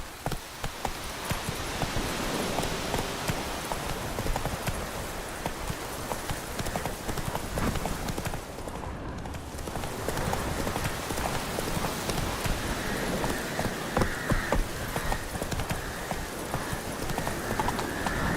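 Roach the horse trotting in The Witcher 3: Wild Hunt, a steady clip-clop of hooves close by with a patter like rain in the background, running the whole way through with little talk.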